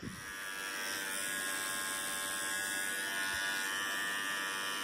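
A Philips Norelco QT4070 beard trimmer, freshly repaired, runs steadily with a continuous close electric buzz and whine that holds level from start to finish, with no voices.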